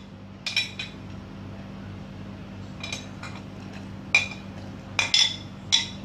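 Paneer, soya chunks, onion, green capsicum and tomato dropped one by one into a marinade bowl, giving a handful of sharp clinks and soft clatters spaced apart over a low steady background hum.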